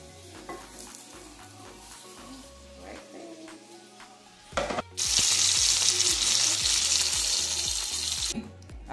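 Food heats on a griddle with quiet clinks and low background hum, then a loud, close, hissing sizzle bursts in about halfway and holds steady to the end.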